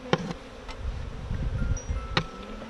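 Honeybee drones taking off from a warm hive, their buzzing wingbeats rising in short passes over low, rumbling outdoor background noise, brief and fairly close.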